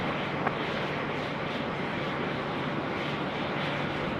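An airliner rolls for takeoff at Sydney Airport, its jet engines a steady, loud, broadband roar that holds without a break.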